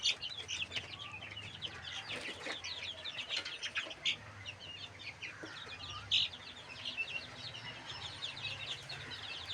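Young chicks suffering from a cold, with swollen faces, chirp and cluck in a busy overlapping chorus. Several small birds sound close together, with soft rustling underneath and no speech.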